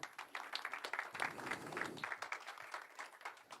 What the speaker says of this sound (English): So big applause for them, please.